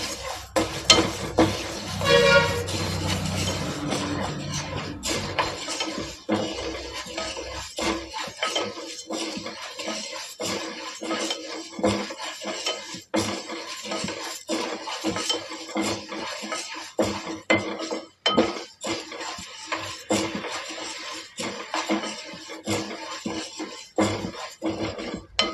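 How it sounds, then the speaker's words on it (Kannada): Moong dal roasts in a pan over a medium flame while a spoon scrapes and stirs it, giving soft irregular scraping, light clinks and a faint sizzle that run steadily throughout. "ಇವಾಗ ಹೆಸರುಬೇಳೆ ಹುರ್ಕೊಂತ ಇದ್ದೀನಿ. ಮೀಡಿಯಂ ಫ್ಲೇಮಲ್ಲಿ ಇಟ್ಕೊಂಡು ಹುರ್ಕೊಳ್ಳಿ"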